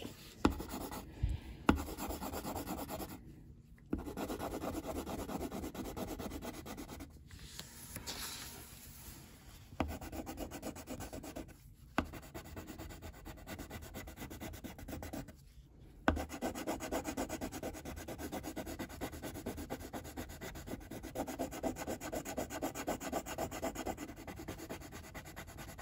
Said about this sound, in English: Now draw his ear gray in the outside.